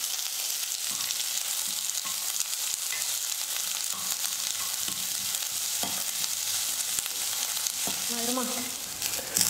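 Chopped onions fry in oil with dried red chillies in a pan for chutney, a steady close sizzle with occasional spatula knocks and stirring, no talking.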